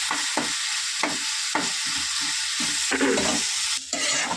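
Curry being stirred and sautéed (kosha) in a pan: a steady sizzle with repeated scraping strokes of the spoon against the pan bottom, close and clear, with no talking.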